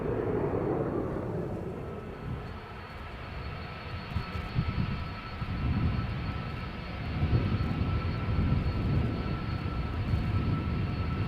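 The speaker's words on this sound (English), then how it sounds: "Delta Airlines flight 163 going to Minneapolis, Minnesota. Airbus A330 300." A Delta Airbus A330-300 jet airliner at Amsterdam Schiphol's Polderbaan runway rumbles through its spool-up and takeoff roll, with a steady broadband engine roar and whine that swells and surges in waves, loud and close, with no talking.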